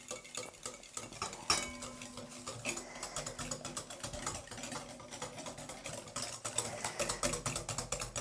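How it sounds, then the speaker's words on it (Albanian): Egg and sugar are whisked by hand in a large bowl, a fast, unbroken run of light tapping and scraping strokes that stays fairly quiet throughout, with no speech. "në një tas më të madh, do hedhim vezën dhe do fillojmë që ta përzijem"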